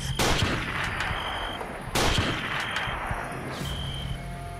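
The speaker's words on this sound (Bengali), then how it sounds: "মেয়েটাকে লক্ষ্য করে পরপর 2 বার গুলি চালায়" Two loud gunshots about two seconds apart, each a sharp crack with a ringing tail, used as a sound effect in a rural Bengali ghost story, with no speech.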